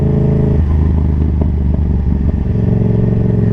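A Yamaha XSR700 motorcycle idles steadily up close, its exhaust thrumming with a deep, uneven low rumble and light mechanical clatter throughout.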